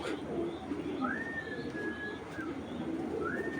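A Kaldom pigeon coos softly in a couple of drawn-out calls over a low, steady background hum.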